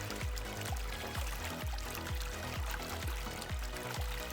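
A Rossmont Mover MX4100 wave pump in a 10-gallon aquarium sloshes and churns water steadily, with a regular rhythmic pulsing surge roughly every half second, pushing waves back and forth.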